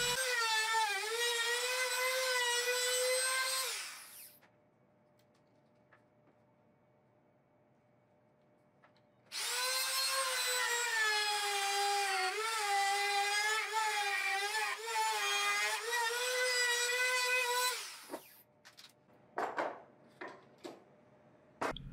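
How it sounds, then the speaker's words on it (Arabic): A wood router cuts a square recess for a drill press table jig, a loud high whine in two long passes separated by a quiet pause, ending with a few knocks and clatters. "ثبت الفورمة كويس في مكانها، وبعدين هحفر بالراوتر. نحفر على مرتين عشان نريح البنطة."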